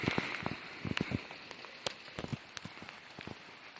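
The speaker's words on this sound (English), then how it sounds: "Gotta love Oregon rain." Oregon rain patters on a hard surface, with irregular drops tapping nearby over a soft, steady background wash.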